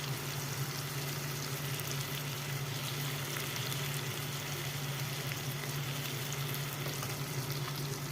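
Green chilies frying with dried fish (shutki) in a pan give off a steady, loud, unbroken sizzle that runs close and even throughout, with no voices.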